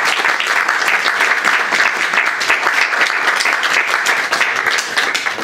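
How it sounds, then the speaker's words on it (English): An audience applauding steadily at a poetry reading, dense clapping at a constant, fairly loud level for several seconds. "Let's give another round of applause"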